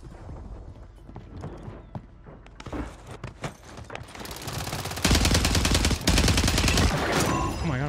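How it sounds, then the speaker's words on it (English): Gunfire in the shooter Call of Duty: Warzone: scattered single shots and footsteps at first, then dense, loud automatic bursts rattle continuously through the second half. "Oh my god, I was just shooting"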